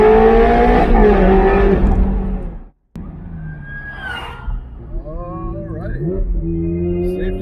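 A white Ferrari Challenge Stradale revs loudly inside a tunnel, its engine note rising and falling in strong harmonic sweeps, cutting out briefly to silence before roaring back with further revs and echoing engine tone.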